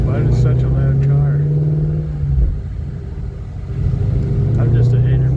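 A 2018 Ford Mustang Shelby GT350 rumbles loudly and steadily throughout, its low engine drone dipping briefly midway before swelling again, with people talking inside the car over it.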